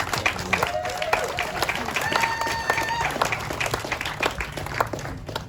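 A crowd at a Three Waters public meeting in Mangawhai claps for the Taxpayers Union, a moderately loud ripple of hand claps mixed with scattered voices and a brief whistle-like tone.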